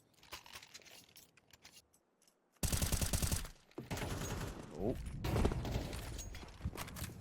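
Five-seveN pistol shots in a Counter-Strike 2 match, a dense burst of sharp gunfire and clattering effects building after a quiet start, with a commentator talking over much of it.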